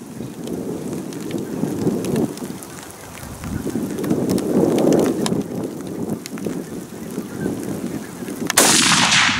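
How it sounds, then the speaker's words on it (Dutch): A .22-250 rifle fires at a Canada goose outdoors: a single sharp, loud crack bursts out near the end after several seconds of low, rumbling ambient noise. "Ik schoot het eerste schot hoog op de gans, toen we daar zaten"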